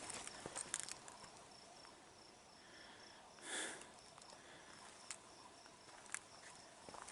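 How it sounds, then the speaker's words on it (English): Crickets chirp faintly and steadily in a quiet canyon on a downhill hike after a long stretch beside a river, with a brief sniff-like rustle near the middle and a few soft clicks. "Crickets."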